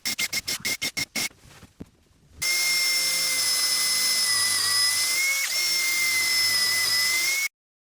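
Close power drill driving screws up into deck boards from below: a burst of short trigger pulses, then a long steady high motor whine with a small dip partway, stopping abruptly.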